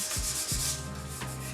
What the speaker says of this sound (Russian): я немножко его подшлифую наждачной бумагой,